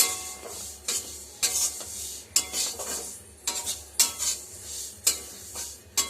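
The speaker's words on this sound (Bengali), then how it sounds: "এবারে আমি তিলগুলো এতে দিয়ে দেবো, দিয়ে এবারে অল্প অল্প করে নাড়বো।" Sesame seeds stirred in a hot pan over a gas burner, a spatula scraping in repeated strokes about once a second with a faint sizzle beneath, close and alone without any voice.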